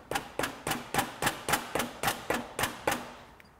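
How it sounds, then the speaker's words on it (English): A Vespa GTS scooter cylinder fitted with a Malossi kit is struck with about eleven small, evenly spaced taps to break the gasket loose from the crankcase. The taps are sharp, close and moderately loud, in a steady rhythm with no talking. "Give it a couple little taps. See if it rocks away from the actual crankcase itself."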